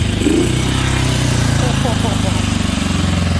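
A 1963 Honda Super Hawk motorcycle engine runs on half choke, a steady, loud, slightly uneven putter with a voice talking over it.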